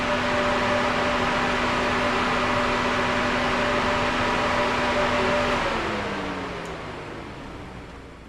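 Radiator cooling fans on a 1978 Chevy squarebody truck roar with a steady, loud whoosh and a constant hum, then spin down and fade over the last few seconds.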